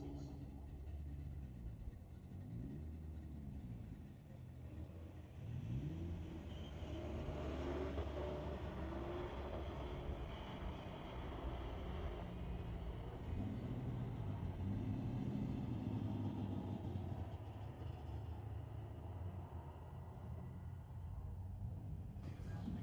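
A 2023 Volkswagen Golf and a 2012 Lexus drag race at a street-legal Friday night event at Mission Raceway Park, with a steady engine roar and rising revving sweeps heard from a distance and faint voices underneath.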